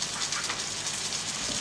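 Dumplings in a non-stick pan on the stove give off a steady, dense sizzle and hiss once the lid is lifted, even and continuous with no voices.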